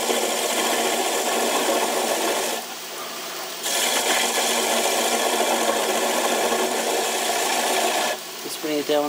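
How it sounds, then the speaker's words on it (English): A wood lathe turns a boat-style bowl while a tool takes small gentle cuts on the tenon, a close scraping rasp over the spinning work that pauses briefly twice, with speech audible at points. "so I'm just going to turn the tenon down"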